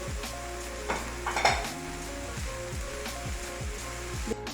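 Finely chopped vegetables and onion are mixed in a bowl, giving close repeated scraping and clinking of a spoon against the bowl in an irregular rhythm, with no talk.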